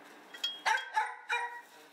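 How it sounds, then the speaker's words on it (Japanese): A pet dog indoors lets out several short barks and whiny yelps in quick succession, fairly close and moderately loud, with no talking. "それにしても我が家の犬はうるさいです。 さっきから泣きっぱなしです。"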